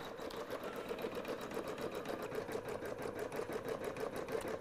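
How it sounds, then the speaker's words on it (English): A sewing machine stitches an appliqué Christmas ornament, humming in a fast, even mechanical rhythm at close range, quiet and continuous with no talk. "I love how the machine can change the size and the density all in the stitch."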